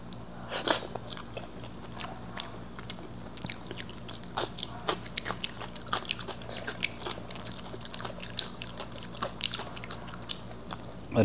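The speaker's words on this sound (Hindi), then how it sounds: "first bite" Eating khichdi with a first bite followed by steady, close chewing, soft crunchy mastication clicks repeating through the meal with a low background hum and no talking.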